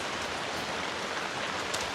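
Steady rain falls in a dense, even wash of patter at a rural Thai home, continuous and moderately loud with no talk over it.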